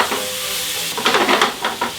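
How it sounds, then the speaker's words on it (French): Onions sweating in a very hot frying pan, a dense close sizzle that swells into crackling bursts as they are evened out with tongs, with no voices. "La poêle toujours à fond. Oignon comme ça. Pince, on égalise. On va les faire suer."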